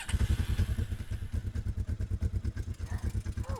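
A motorcycle with a broken clutch chugs close by at low speed in a parking lot during A2 licence training, a steady pulsing thump of the engine, with a brief whine near the end.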